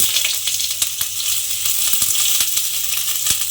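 Chopped onion fries in hot oil with dried chili for a dal, potato and egg curry. A continuous close sizzling hiss runs throughout, dotted with small sharp pops and clicks.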